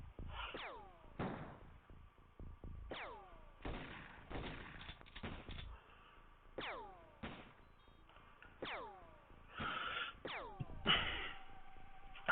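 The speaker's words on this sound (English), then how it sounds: "You're shooting from so far away" Gunfire in the video game XCOM: a long run of sharp, fairly quiet shots at irregular intervals, several trailing off with falling whistling tails.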